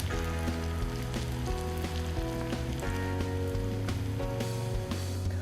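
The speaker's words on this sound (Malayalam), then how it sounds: "ചിക്കൻ നമ്മൾ ഓയിലിലേക്ക് ഇടുമ്പോൾ ഓരോ പീസും നമ്മൾ സെപ്പറേറ്റ് ചെയ്തിടാനായിട്ട് പ്രത്യേകം ശ്രദ്ധിക്കുക" Marinated chicken pieces for Chicken 65 fry in hot oil with a steady, dense sizzle that holds at an even level throughout, close and continuous, with no voices.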